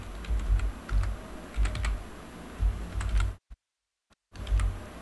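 Someone types C++ code on a computer keyboard, with quiet irregular key clicks and occasional heavier presses in short bursts, then a brief silent gap before the typing resumes.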